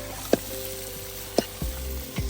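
Broiler chicken meat sizzles in a pan with onions at an outdoor gathering, a steady hiss broken by a few sharp clinks and scrapes of a utensil against the pan.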